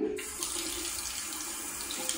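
Tap water runs steadily from a faucet to wet an eraser, a close, continuous splashing rush that starts abruptly and carries on at an even level with no talking.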